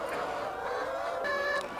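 Chickens clucking on a farm in Suriname, a steady dense cackle from a crowded flock nearby with a few higher calls standing out.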